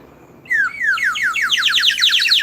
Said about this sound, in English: An Aztec death whistle.